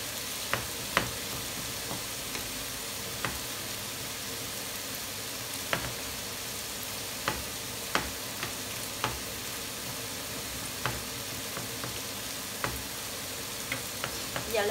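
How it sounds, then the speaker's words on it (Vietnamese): Swedish blood pudding fries in a pan with a constant dense sizzle. Small sharp clicks and taps from stirring or utensil contact come every second or so, close and continuous. "Mình chiên cho nó đen lên."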